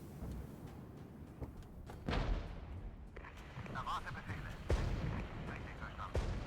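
Mortar and artillery fire in the strategy game Regiments, several sharp distant blasts and thumps at irregular intervals over a steady battlefield rumble, with a voice talking over it.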